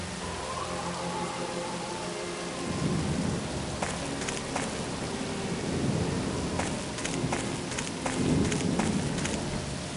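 Steady rain pours on an island during a storm, with deep thunder rumbling and rolling in several waves and sharp crackles breaking through. Heavy and close throughout, with no voices.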